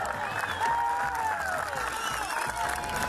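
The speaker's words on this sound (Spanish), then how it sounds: "Quiero que le demos un aplauso a los amigos de Chilevisión" An outdoor gathering of townspeople in Colbún applauds together, steady mid-level clapping mixed with crowd murmur and a few raised voices over the whole stretch.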